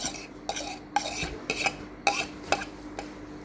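Thin rice noodles are blanched in a pot, with a series of rhythmic metal clinks and scrapes from a utensil against the pot about every half second, close and fairly quiet.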